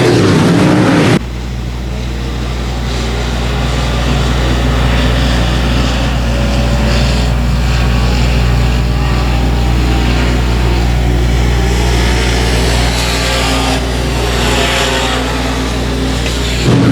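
Dirt track race cars roar around the track at night in a steady, loud, droning engine wall, the pack passing and blending into a continuous rumble after an abrupt start.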